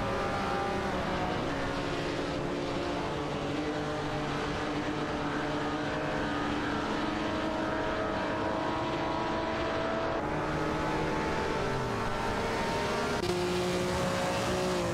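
A Lancia Stratos HF and a Ferrari 250 GTO race in a racing game, engines droning continuously with shifting pitch as several cars run close together, no talk.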